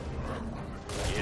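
Weapon reload in the video game Heroes of the Storm, a short mechanical clack and creak followed by a brighter metallic rasp, close and loud.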